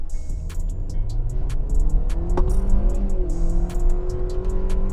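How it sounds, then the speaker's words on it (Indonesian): Hyundai Stargazer Prime engine revving under full throttle in sport drive mode, a loud steady drone that climbs in pitch as it accelerates, heard from inside the car with faint ticking clicks over it. "sekarang akan saya injak pedal gas penuh"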